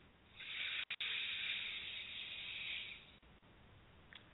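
A slow, soft breath drawn in during a guided meditation, a faint airy hiss swelling for a few seconds, close and alone, followed by quiet.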